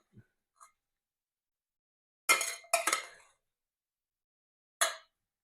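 Roasted vegetables and a butter garlic lobster tail are set onto a plate, heard as a few short clinks and scrapes of utensils and dishware, sparse and close, with silence between.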